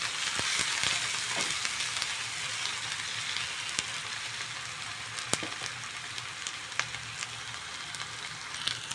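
Ginger and spices stir-fry in a pan for chana masala, giving a steady close sizzle and crackle throughout, with occasional sharp ticks of a utensil against the pan.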